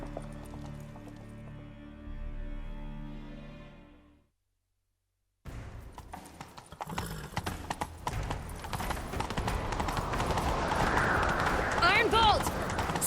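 Horses in The Witcher 3, a medieval fantasy video game, gallop with rapid, loud clip-clopping hooves after a brief silence, the pounding rhythm building amid other game sounds; voices are heard earlier.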